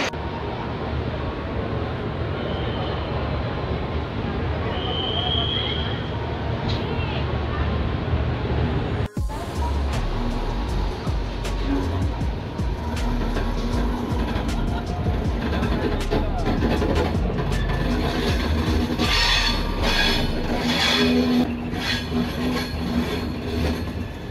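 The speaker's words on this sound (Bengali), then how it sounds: "তো আমাদের ট্রেনটা এখন এসএমবিটি থেকে ছেড়ে বেরোচ্ছে।" Jasidih Express train 22305 departing SMVT station: a steady low rumble of the moving train with a sharp bang midway, then brighter rattling and clattering as it rolls on, with a voice talking over it.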